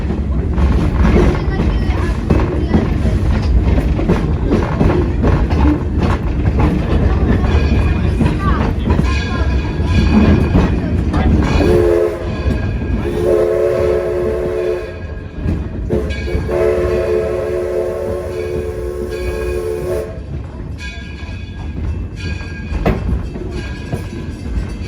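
Train horn sounding a repeated signal pattern of long and short blasts over the steady rumble and clatter of a moving excursion train at a heritage village.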